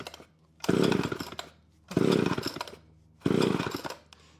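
An old Homelite XL chainsaw fires up in three loud revving bursts, each roaring briefly and dropping back to a low idle between.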